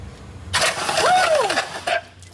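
Porsche 911 Turbo engine from a wrecked car under rebuild, cranked over with the turbo disconnected: a loud, close burst of starter cranking and churning engine noise lasting over a second, then cutting off abruptly.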